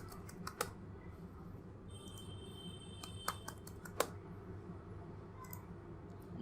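Fingers tap out a short burst of keystrokes on a computer keyboard, quiet irregular clicks with pauses between them, while a password is entered during an Ubuntu installation in VMware.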